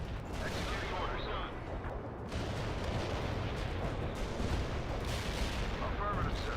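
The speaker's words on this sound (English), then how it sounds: "Artillery must always be targeted this way" Artillery fire in the World in Conflict video game, a thick rumbling barrage of heavy blasts and gunfire rolling on without pause, loud and dense, with faint radio-style voices under the din.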